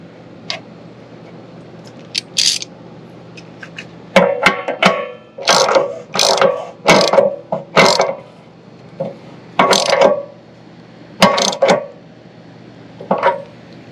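A ratchet tightens a Teflon-wrapped plug into an RV water heater, loud bursts of metallic clicking in short repeated strokes separated by pauses, close up and without talk.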